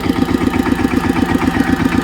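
A power tiller without iron wheels runs through mud, its engine chugging in a fast, even, knocking rhythm, loud and near, with no voices.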